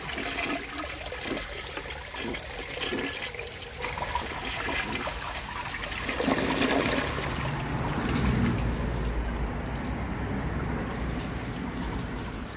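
A 1966 Nationaline toilet flushing a washcloth: a steady close rush of draining water that shifts midway into gurgling and trickling as the bowl refills, with no talking.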